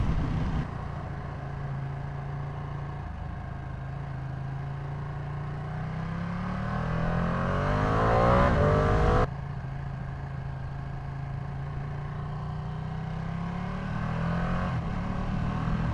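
Ducati V2 motorcycle riding on a highway, steady engine drone with wind noise, one rising surge of acceleration midway, then a sharp cut back to cruising.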